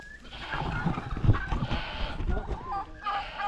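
Chickens cluck and turkeys gobble on a goat farm, with short, scattered fowl calls at close to medium range and faint background farm noise.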